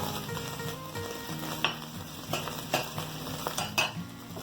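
Saltfish frying in hot oil in a pan, giving a continuous close sizzle broken by a few sharp utensil scrapes and taps, with no voices.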